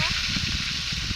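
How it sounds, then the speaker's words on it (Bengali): Onion and bay leaf fry in hot oil in a kadai with a close, steady sizzling hiss and faint crackles throughout. "পেঁয়াজটা দিচ্ছি, পেঁয়াজ তেজপাতা"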